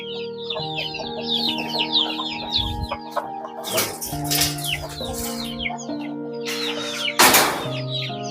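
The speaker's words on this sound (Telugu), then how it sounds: "ఇవి ఆసిల్ క్రాస్ పిల్లలు, చాలా చిన్న బుడ్డ పిల్లలు అండి." Young Asil cross gamefowl chicks chirp constantly in a dense, high-pitched chorus at a farm, with a rooster-like cluck and wing flaps mixed in, close and fairly loud.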